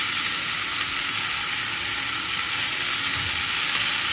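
Mixed vegetables fry in oil in a pan with a constant, dense, close sizzle and hiss, unbroken and with no voices.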